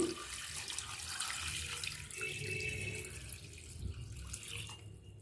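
Steady rush of 2 liters of water pouring into a pot for chicken stock, continuous and fairly close, with no talking.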